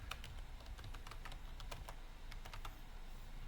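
Quiet, rapid clicking of keys as text is typed on a computer keyboard, an irregular patter of close taps over a faint hum.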